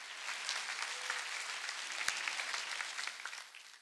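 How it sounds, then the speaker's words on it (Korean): A congregation claps at a church revival meeting, dense steady applause filling the space evenly before tapering off at the end, with no voices over it. "믿는 사람은 박수치래."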